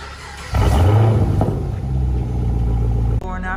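A 2016 Chevrolet Camaro with a new aftermarket exhaust fires up by remote start, a loud low rumble swelling from a quieter lead-in into a steady, strong idle that cuts off near the end.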